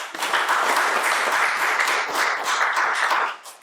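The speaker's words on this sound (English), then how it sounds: "I think that deserves a round of applause" Audience at a retirement-living presentation breaking into a round of applause, steady dense clapping lasting a few seconds before trailing off, loud and close.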